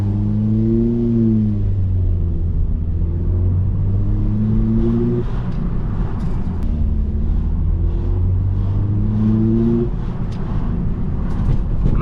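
A car engine fitted with an upgraded air intake drones loud and close, climbing in pitch through two long revs with a steady rumble underneath throughout.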